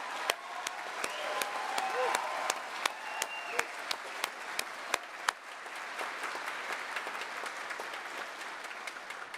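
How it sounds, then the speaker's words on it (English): An audience at an Indigenous honouring ceremony gives the graduates a long, steady round of applause, with sharp individual claps standing out over the dense clapping of the crowd. "I would like to give each and every one of them a round of applause"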